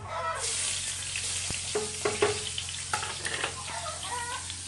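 Garlic and squid sauté in a home pan for a lunch dish, giving a steady close sizzle with scattered stirring clicks and scrapes throughout, and no talking.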